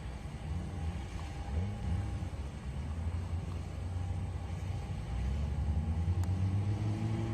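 A Corvette sports car runs along an airstrip at a speed event, a low steady engine rumble building gradually and staying fairly distant, with no voices.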